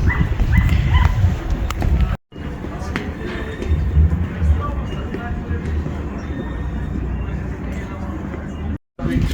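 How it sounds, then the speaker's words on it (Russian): Dogs met on a street in a mountain resort town, heard through a dense mix of movement and ambient noise while people talk throughout, with occasional barks. "И тут мы вдруг шли и встретили собак."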